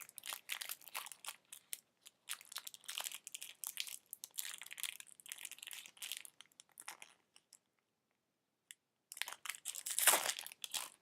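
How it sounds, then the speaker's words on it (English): A foil pack of Minecraft collectible sticker cards is torn open up close, with dense crinkling and tearing in bursts, a short pause, then a final loud crinkle. "I think I'm going to go with these Minecraft collectible sticker cards now. So I'm going to open this one."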